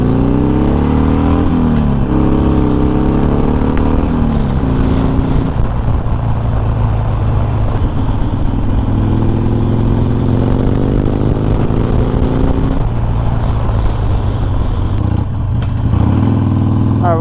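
A Harley-Davidson Sportster engine revs and pulls in first gear on a road ride, a loud continuous low rumble rising and falling in pitch as the throttle opens and eases, heard close throughout.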